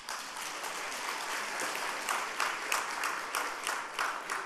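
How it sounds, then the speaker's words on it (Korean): A church congregation bursts into warm applause during a service welcome, many hands clapping steadily and fairly close, with a few sharper claps standing out toward the end and no speech over it. "담임 목사가 박수 치라고 말도 안 했는데 박수를 쳐."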